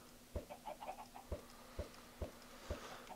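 Chickens cluck softly in a small flock, with short scattered clucks and a few regular faint thumps underneath, no talking.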